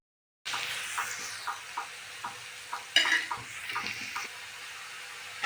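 Onions fry in a pan for old-style kandavani curry, a soft steady sizzle that starts abruptly after a short silence, with a regular stirring knock about twice a second and one brighter clatter midway, no talking.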